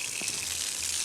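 Water rushes from a village tap under strong pressure, fed by gravity from a water tower, a steady loud hiss with no pauses and a couple of faint low knocks.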